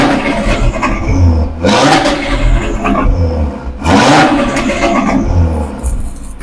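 The exhaust of a tuned Cupra Formentor VZ5 Stage 1+ roars close and loud as the engine revs in neutral, with repeated throttle blips rising and falling in a steady rhythm.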